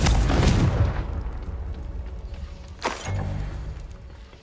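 Confringo fire spell explosions in the Hogwarts Legacy video game, a deep booming blast at the start that rumbles away, then a second sharp burst with a low rumble near the end.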